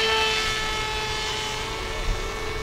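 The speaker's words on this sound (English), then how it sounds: "Let's try to come in here and do a little flyby." A ZOHD Nano Talon RC airplane makes a low flyby, its small electric propeller giving a steady high whine that holds fairly close and even across the short pass.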